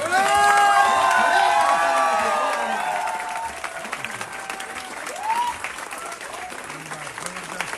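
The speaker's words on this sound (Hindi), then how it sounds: "तालियां, जोरदार तालियां होनी चाहिए।" A large seated audience breaks into loud, sustained applause mixed with cheering and voices, strongest at the start, then settling into steadier clapping with scattered shouts.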